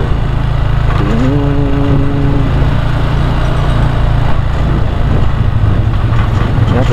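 A loud motorcycle engine running nearby at the Keraton Surakarta palace in Solo, Indonesia, a steady low rumble with a brief rising rev early on.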